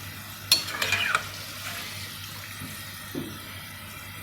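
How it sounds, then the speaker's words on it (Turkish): Potatoes frying in hot vegetable oil in a home kitchen give off a soft, steady sizzle, with a brief burst of stirring and clinks near the start and a faint knock later. "Bütün patateslerimizi böyle kızartacağız"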